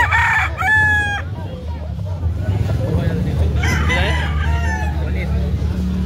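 A rooster crows repeatedly at a busy chicken-selling spot, with several drawn-out calls rising over steady low background hum and occasional nearby chatter.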